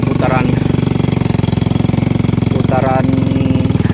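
A motorcycle engine chugs loud and near on a muddy mining trail in the rain, a rapid steady throb with two brief higher surges as gears shift, a voice talking over it.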